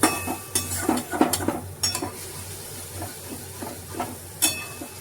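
Spice paste with added water being sautéed in a pan for silver carp curry: a close, soft sizzle under repeated scraping and clinking of a spoon against the pan in irregular strokes.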